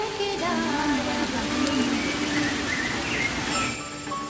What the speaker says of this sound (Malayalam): കേരളത്തിൽ വേനൽ ചൂടിൻ്റെ കാഠിന്യം കുറച്ചുകൊണ്ട് മഴ തിമിർത്തു പെയ്യുന്നു.